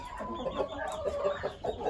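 Broiler chickens cluck softly and continuously in a poultry shed, a faint, murmuring flock sound with no distinct individual calls standing out.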